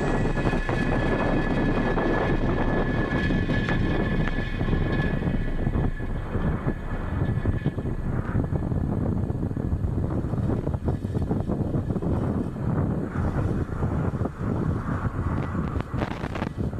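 A SpaceX Falcon 9 rocket lifting off from California carrying ten military satellites for the Space Development Agency Tranche 0 mission, a continuous heavy crackling roar that holds loud throughout, buffeted by wind noise.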